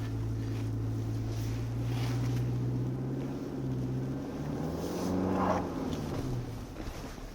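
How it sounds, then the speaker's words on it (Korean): Engine of a Kia Tasman pickup truck droning steadily from inside the cabin as it drives, with the pitch rising and falling as it revs, alongside road and wind rumble and no talking. "와, 이 엔진은 미치겠네. 뭐만 하면 엔진이 확 들어오네."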